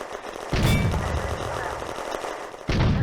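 A heavy machine gun firing in a World War II Eastern Front war video game, sustained loud rattling bursts with a sharp restart near the end, mixed with battle noise and possible voices.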